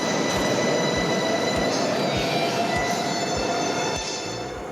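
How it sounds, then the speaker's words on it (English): A Singapore MRT metro train runs along the rails, with a steady loud rumble, high wheel squeal and regular clacks of wheels crossing rail joints, staying close throughout. "The trains in Singapore are also locally known as the MRT."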